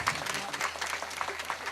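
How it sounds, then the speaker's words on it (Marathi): An audience claps together at a devotional talk about Shivaji Maharaj, producing dense, continuous applause that holds steady across the short span. "एकदा त्यांच्याकरता टाळ्या द्या."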